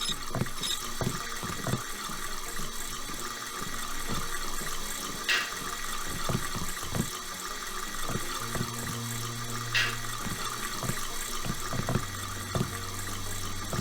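Tap water runs steadily in a Deus Ex game scene, a continuous hiss of flowing water with faint scattered clicks and a low hum underneath.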